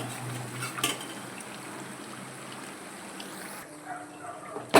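Pumpkin fritters, gummadi appalu, frying in hot oil produce a steady close sizzling hiss, with a couple of faint clinks from a utensil and a brief louder rattle at the end.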